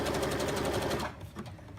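Sewing machine stitching fabric for a drawstring bag, running at a steady rapid rhythm for about a second before stopping, followed by a few faint mechanical clicks.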